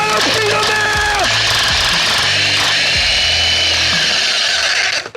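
A hole saw cuts into a safe with a steady, loud grinding whine for about five seconds, its pitch dipping briefly partway through before stopping abruptly.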